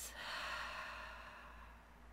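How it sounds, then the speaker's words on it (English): A deep, soft breath out during a relaxation session, one long airy exhale that starts abruptly and fades slowly, quiet and close. "Take some nice deep breaths in and release"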